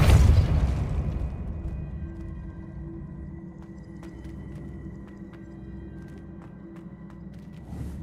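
A Depulso force spell striking in Hogwarts Legacy, a loud booming burst up front that fades into a low rumbling hum with faint scattered crackles over several seconds.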